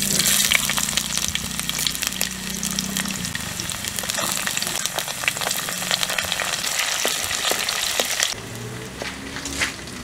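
Ginger and garlic sizzle and crackle in hot oil with fenugreek seeds for a fish curry, a dense, loud frying hiss with popping bursts that eases noticeably near the end.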